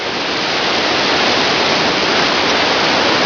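The Khone Phapheng waterfall on the Mekong River roars as a loud, steady, broadband rush of falling water, close and unbroken, with no voices over it.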